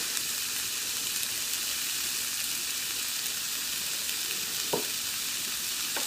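Onions fry in a pan on a small tabletop stove for fajitas, producing a steady, even sizzle with one brief clink partway through.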